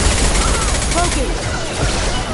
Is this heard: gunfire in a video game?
yes